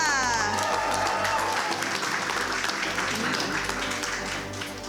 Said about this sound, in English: big round of applause for Marissa